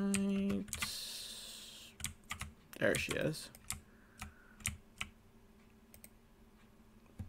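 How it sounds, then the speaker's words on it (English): Mechanical keyboard keys clicking in scattered bursts of short taps, fairly faint and close, with a brief spoken voice early on and a game's background sound underneath. "like clicking sound. That's my mechanical keyboard."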